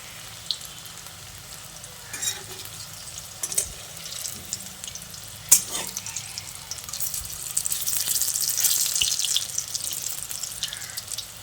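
Jackfruit seed laddus fry in oil over a low to medium flame with a soft continuous bubbling sizzle, a few sharp clicks as they are turned, swelling louder toward the end.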